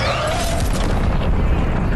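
Deep, sustained rumbling boom from a rocket blast tearing apart Tilted Towers in Fortnite, a dense low roar filling the whole stretch with a faint high hiss fading early on.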